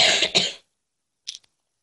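A person coughs twice in a quick burst, loud and close, followed after a pause by a softer, brief throat-clearing sound during a Minecraft game session.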